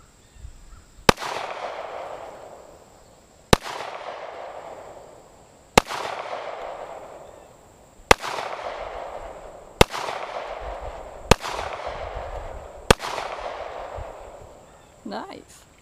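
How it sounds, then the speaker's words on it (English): Six or seven sharp .45 pistol shots ring out at an outdoor shooting range, evenly spaced about two seconds apart, each a loud crack followed by a long fading echo. "It has been a while since I've shot this 45."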